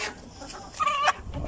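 A farm chicken gives a short, clear cluck, close and moderately loud over a quiet outdoor background.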